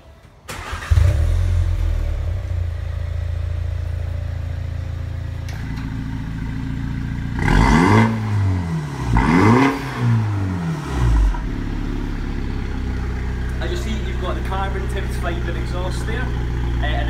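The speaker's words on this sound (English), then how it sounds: "One of the special things about the Challenge 210 as well is the sports exhaust that's fitted." A MINI Challenge 210 with its sports exhaust idles, then revs sharply in three quick rising blips before settling back to a burbling idle, close up and loud.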